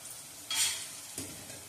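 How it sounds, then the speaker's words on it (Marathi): Onion sautéing in a pan, a soft, steady sizzle heard nearby with two brief bursts of stirring and scraping, no voices. "तर कांदा इकडे आपला परततोय"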